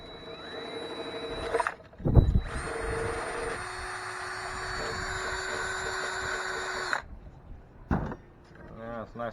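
A drill runs a bit back through a freshly drilled hole to clear out burrs while fitting a FASS Titanium 165 lift pump, a steady whirring grind lasting several seconds after brief clunks, fairly close and loud.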